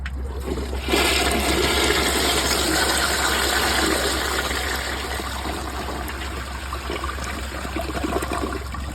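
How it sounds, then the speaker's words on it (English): A Mansfield Alto toilet with a mid-size tank flushes with a strong, steady rush of water that runs continuously for several seconds before easing into a quieter refill trickle, close and without voices. "let's give it a flush and see how it does"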